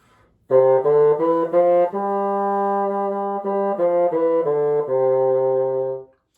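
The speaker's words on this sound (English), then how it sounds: "When we go from note to note, we put a tongue on each note" A reedy bassoon plays a melodic line of distinctly separated notes, each with a crisp start, including one long held tone in the middle.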